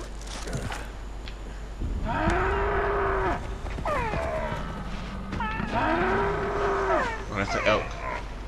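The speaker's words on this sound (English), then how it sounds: "Oh, that's an elk." Elk in Far Cry Primal gives two long, loud bellowing calls, each rising and holding before fading, with game ambience and brief sounds between them.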